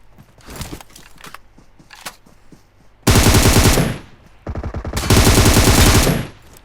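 Rapid automatic gunfire from PUBG Mobile rips out in two long, loud, close bursts, preceded by scattered single shots and crackles in the distance, with no talking.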